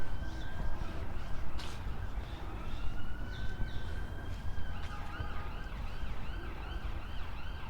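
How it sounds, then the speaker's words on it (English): An emergency siren, ambulance or police car, wails in the distance near a hospital beside a park, its rising and falling tone sweeping over traffic rumble while birds chirp faintly. "you can always hear an ambulance pass or a police car"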